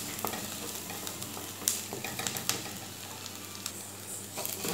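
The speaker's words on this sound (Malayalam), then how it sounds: "നമ്മുടെ സവാള ഇത്ര മാത്രം വഴന്നാൽ മതിയാവും." Sliced onions sautéing in a pan for aloo paratha filling, a soft steady sizzle broken by scraping stirs and light clinks of the spoon, close and alone.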